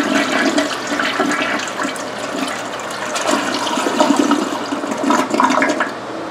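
A toilet flushes after a clogged drain has been cleared, a loud close rush and gurgle of water that churns steadily and swells near the end.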